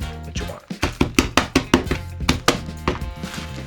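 Coffee beans crushed by hand without a grinder: a run of about a dozen sharp, close knocks and crunches, irregular but steady, loud and alone without talk.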